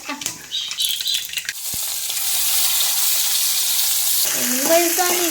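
Mustard seeds crackle and sizzle in hot oil with a steady hiss, and a voice speaks briefly at the start and end.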